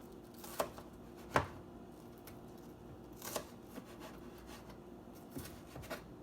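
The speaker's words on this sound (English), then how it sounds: "Now you want to cut it longitudinally and cut it into really thin slices." Knife cutting a vegetable lengthwise into very thin slices, giving a few sharp separate chops on a board, spaced irregularly between quieter rubbing and scraping, fairly close and moderately quiet.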